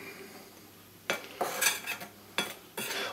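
Utensil scraping and clinking against a bowl as seasoned food is mixed, in short bursts of stirring with pauses between, close and fairly loud, no voices.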